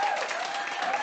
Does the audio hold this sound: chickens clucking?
no